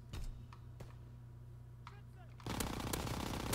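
Thompson submachine gun firing in a WW2 video game, with a few sharp shots early on and then a dense, loud burst of rapid automatic fire at the end under game ambience.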